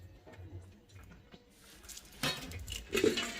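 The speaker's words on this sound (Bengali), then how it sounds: "সব বাসন মাজবো।" Pots and dishes being handled while washed, a few quiet metallic clinks and knocks, starting faint and getting louder with sharper clatters near the end.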